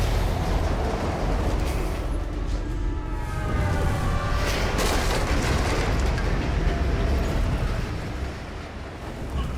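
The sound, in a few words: train rushing past in video game Alpha Protocol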